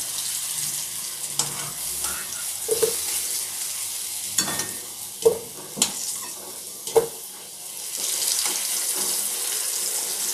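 Cauliflower frying with spices in a pan gives a soft continuous sizzle, punctuated by several distinct scraping and tapping stirs, with a running-water wash in the background.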